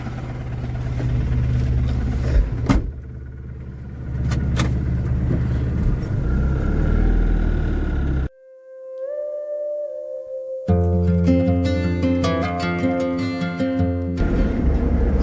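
A loaded goods truck drives off to deliver its cargo for Arco Transport, its engine rumbling steadily and close throughout, briefly giving way to a few seconds of sustained tonal sounds before the engine noise returns.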